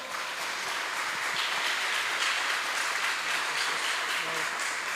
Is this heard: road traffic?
no